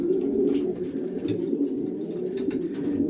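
Spare pigeon cocks sit together in a cage, cooing continuously in low, throaty, overlapping calls close by.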